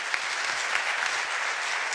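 Sustained applause fills the hall for former Colombian president Ernesto Samper after his conference talk at a local economic development forum, a dense even patter of many hands with no voices over it.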